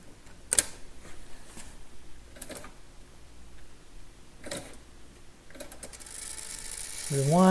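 A Sansui D990R cassette deck's mechanism rewinds with small ratcheting clicks and ticks, a few sharp mechanical snaps, then a rising whir of the reels near the end, close and fairly quiet.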